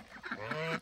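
Ducks give a short honking call, brief and faint, heard alone without talking.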